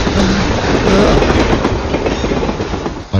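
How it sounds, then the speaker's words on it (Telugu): Film sound effect of a train passing, a loud continuous roar of rail wagons with clattering wheels rumbling steadily throughout. "పట్టాలు లేకుండా ట్రైన్ ఎలా వచ్చింది?"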